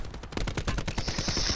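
Rapid automatic gunfire from a video game, a steady, evenly spaced string of about a dozen loud, close shots with no talking over it.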